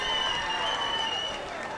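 An audience applauding at a Nia celebration toast, steady crowd clapping mixed with whoops and high sustained cheering tones, fading slightly toward the end.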